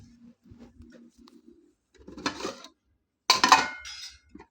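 Plates being brought and handled for fuchka clink and clatter in a few quick bursts, close and fairly loud, after a stretch of faint low murmuring.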